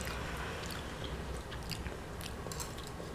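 Close, crisp crunching and soft wet chewing of a salad with almonds and capers, repeated bites across a few seconds, quiet and intimate with no talking.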